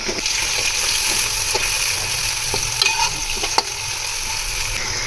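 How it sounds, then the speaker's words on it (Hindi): Vegetables and spices, with tomatoes and sliced lemons, fry in a pot for an egg yakhni pulao: a steady, fairly loud sizzle with occasional scraping stirs and small pops, no talking. "सब्ज़ मसाले की यहाँ तक भुनाई हो गई है मुकम्मल।"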